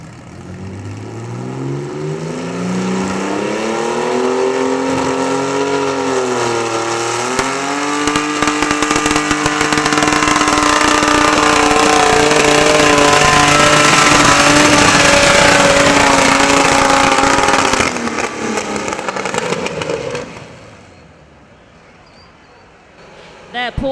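A 9500 Pro Farm turbo tractor roars at a tractor pull, its engine revving up and holding a loud, sustained howl for most of the run before dropping away near the end, with a continuous crowd-and-track wash behind it.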